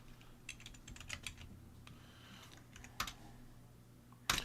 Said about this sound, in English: I need to get a new keyboard.